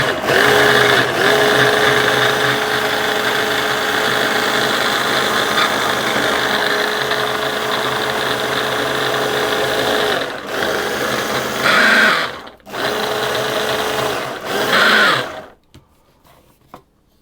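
A food processor mixes walnut tart pastry dough after egg yolk goes in, a loud, steady motor whine running continuously, briefly stopping and restarting a couple of times before cutting off near the end.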